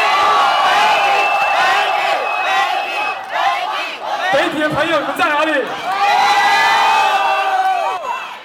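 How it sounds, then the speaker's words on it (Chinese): A loud audience at a college locking dance competition final cheers, whoops and shouts without a break as the winner is about to be announced, with an emcee calling out over the roar. "来点欢呼声吧，各位！"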